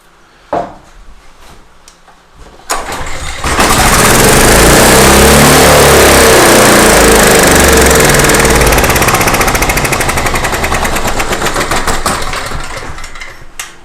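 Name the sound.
small generator engine cranking and over-revving on starter fluid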